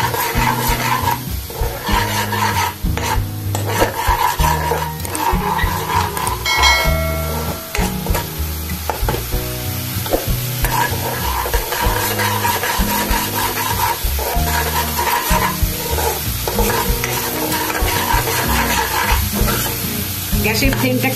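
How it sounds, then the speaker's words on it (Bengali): Spice paste for a Bengali pabda fish curry frying in a pan with a splash of water, loud continuous sizzling mixed with repeated scraping and stirring strokes of a spatula, close up and without talk. "একটু জল দিয়ে আর একটু কষিয়ে নিচ্ছি"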